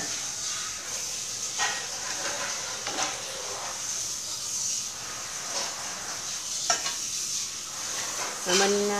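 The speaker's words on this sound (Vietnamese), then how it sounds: "Mình cho nước dừa vô luôn." Chicken drumsticks in a hot pan as fresh coconut water and plain water are poured in, giving a steady close sizzle and bubbling hiss with light stirring clinks and a louder splash near the end.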